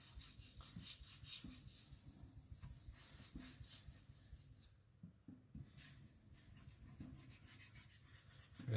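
A kiridashi knife edge being sharpened, with quiet repeated rubbing strokes of steel across a stone in an uneven back-and-forth rhythm, close and soft with no talk.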